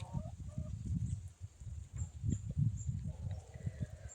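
Several hens cluck and murmur nearby, soft intermittent clucking over a low background murmur of the farmyard.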